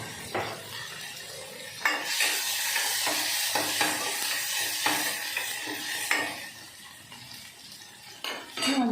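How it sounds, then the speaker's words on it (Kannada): Onion and tomato stirred in a pan with a metal spoon. Repeated clanks and scrapes of the utensil against the pan sit over a steady sizzle, with a few sharper knocks spaced through the clip and no one talking. "ಈರುಳ್ಳಿ ಟೊಮೆಟೊ ಎರಡೂ ಕೂಡ ಒಂದೇ ಸತಿಗೆ ಹಾಕ್ಕೊಂಡು ಚೆನ್ನಾಗಿ ಮಿಕ್ಸ್ ಮಾಡ್ಕೊತೀನಿ"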